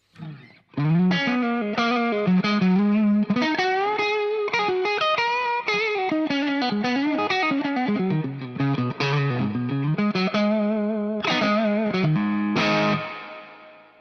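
Electric guitar played through an amp with built-in overdrive, with heavy spring reverb from a pedal; a lively melodic run of sustained, slightly driven notes and bends rings out alone, then stops.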